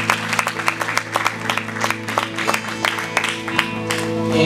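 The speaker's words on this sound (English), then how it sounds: "Let's give the Lord po another clap of praise." A Sunday worship congregation claps in praise, steady rhythmic clapping from a crowd in a room with a held musical tone underneath, continuing throughout.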